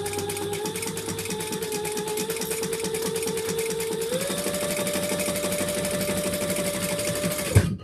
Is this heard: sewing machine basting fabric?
yes